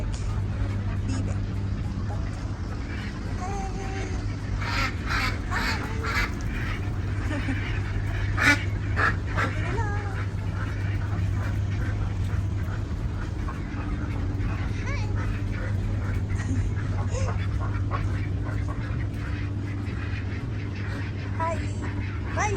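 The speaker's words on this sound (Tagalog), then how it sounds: "Ang mga itik. Bibe." Ducks quack repeatedly at a farm in Bahrain, mixed with other fowl calls under steady outdoor hum, while people and children talk nearby throughout.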